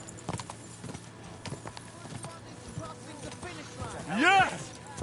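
Horse hooves clip-clop at a steady walking rhythm in the Kingdom Come Deliverance 2 video game, close and clear, ending in a short whinny.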